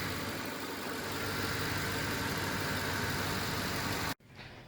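A car engine idles with a steady, even rumble for several seconds, then cuts off abruptly into near silence.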